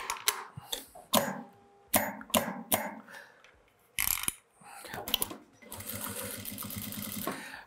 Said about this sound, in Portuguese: Eu vou vir aqui e vou costurar somente a borda de 6.